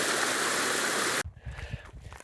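A creek at a gold-panning spot in a British Columbia desert area rushes loudly and steadily, then cuts to a quieter scene where the water is fainter under low rumbling.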